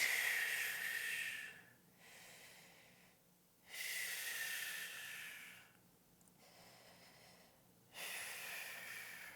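Slow, deep breaths during a back exercise, two long airy exhales alternating with quieter inhales in a calm, even rhythm, faint and close, without speech.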